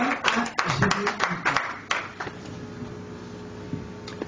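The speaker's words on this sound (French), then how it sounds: "Applaudissements." Audience applause at a press conference for a gospel album launch, a burst of clapping at close range that fades into quieter scattered claps.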